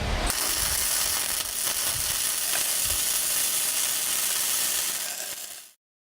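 Flux-cored welding on a T-joint, the gun woven from side to side, gives a loud, close, continuous crackling sizzle that holds steady for about five seconds and then cuts off into silence.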